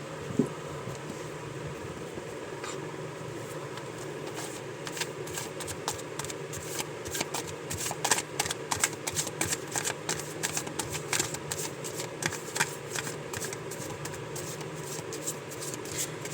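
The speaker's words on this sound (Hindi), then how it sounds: "पहले मैं सारे कार्ड्स ही निकालना चाहूँगी" Tarot cards are shuffled and drawn from the deck, a soft continuous riffling and slapping of cards that grows busier in the middle, close by and fairly quiet, with no voices.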